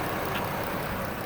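A steady, even V6 engine idle from a 2012 Dodge Caravan SE van hums on without change, a low broadband drone with no talk over it.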